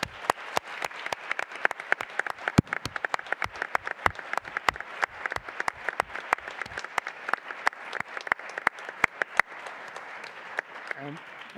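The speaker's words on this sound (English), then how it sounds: "if you join me in a round of applause for that" An indoor audience at a health care industry panel event gives a steady round of applause. Dense clapping carries on for several seconds and then thins out toward the end.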